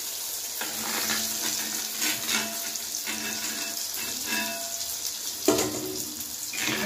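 Jaggery pitha deep-frying in hot oil, a continuous dense bubbling sizzle heard up close, with occasional utensil knocks and no talk.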